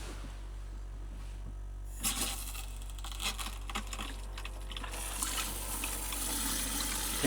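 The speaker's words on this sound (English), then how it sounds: "Hear the pump running." An RV water pump's steady low mechanical hum runs throughout, with a brighter rush of water flow joining about two seconds in and continuing at moderate level.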